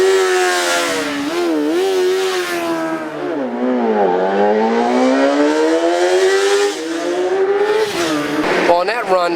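A 2011 Kawasaki ZX-10R with a stock wheelbase and its secondary throttle plates removed, making a drag strip run: a loud, close engine wail climbing in pitch through several gear shifts, dipping at each change before rising again.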